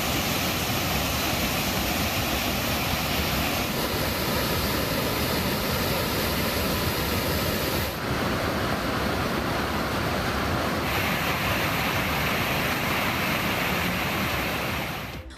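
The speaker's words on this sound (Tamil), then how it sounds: "கும்பக்கரை அருவிக்கு நீர்வரத்து அதிகரித்து வெள்ளப்பெருக்கு ஏற்பட்டது" Floodwaters roar down Kumbakkarai waterfall after heavy rain, a dense, steady broadband rush that stays loud and unbroken throughout with no voices.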